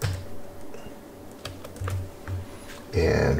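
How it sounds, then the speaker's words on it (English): Keystrokes on a computer keyboard while setting up a Blender node, a few scattered clicks at moderate level over a low background hum, ending in a louder burst. "Let's go ahead and type in"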